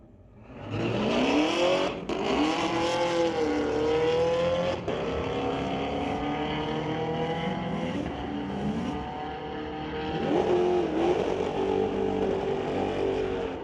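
Street-legal drag race cars at Mission Raceway Park roaring down the strip, a loud sustained engine howl with rising pitch sweeps as they accelerate and shift, heard from trackside without talk.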